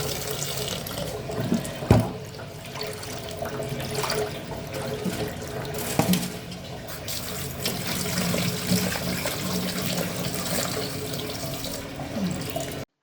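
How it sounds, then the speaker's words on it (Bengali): Tap water runs steadily into a sink while eggplant and potatoes are rinsed under it, with a continuous splashing stream and a few brief knocks and handling sounds, close and fairly loud throughout. "এবার বেগুন এবং আলু ধুয়ে নিচ্ছি।"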